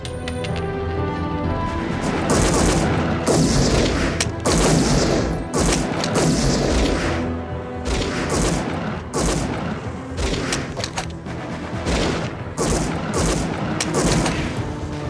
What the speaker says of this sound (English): The German soldiers fire into the windows.